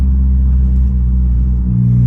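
A car fitted with Koni Yellow dampers, a rear sway bar and lowering springs cruises on the road at normal speed, giving a loud, steady low engine and road rumble from inside the cabin.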